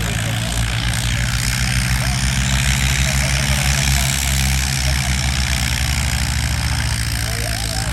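A tractor engine idles at an outdoor tractor fair, a steady low diesel rumble with a constant droning hum, loud and even throughout with no break and no voices.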